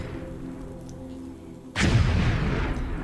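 A single heavy revolver gunshot with a booming tail in the Tomb Raider level editor game, set in Parisian catacombs, after a quiet humming stretch.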